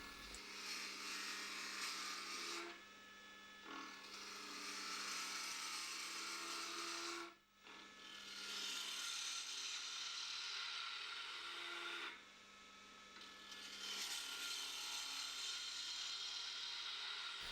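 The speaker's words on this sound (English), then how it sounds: "Set the lathe to run at about 1800 RPM and use a roughing gouge to remove the bulk of the stem waste wood" A wood lathe spins at about 1800 RPM with a steady hum while a roughing gouge strips waste wood from a spindle stem, producing a long continuous hiss that briefly drops out several times, with no speech.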